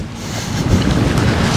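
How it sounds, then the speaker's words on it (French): Tractor running in a hay field during mowing and wrapping work, a loud close rumbling engine drone with wind-like rush, steady throughout. "Pas le bonhomme, hein, le tracteur."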